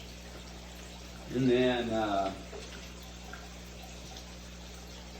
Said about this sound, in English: I'm going to drain a little bit more water out of the 60.